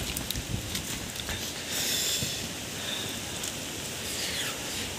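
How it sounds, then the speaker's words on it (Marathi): Steady rain falls with wind blowing in cool weather near Dimbhe dam, a continuous even hiss with no voices. "मस्त थंडगार वातावरण झालंय, हवा चालू आहे, पाऊस पडतोय"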